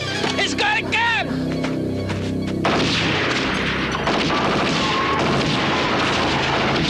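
Gunfire and heavy booms crash through a dramatic movie trailer, loud and close amid music, effects and urgent voices speaking over the action.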